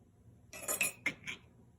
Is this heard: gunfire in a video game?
no